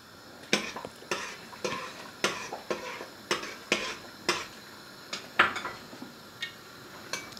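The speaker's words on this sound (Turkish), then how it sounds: "Hepsini beraber karıştırıyoruz." Sauces and other ingredients stirred together in a pot, a spoon knocking and scraping against the metal in a regular rhythm of about a dozen clinks, fairly quiet and close.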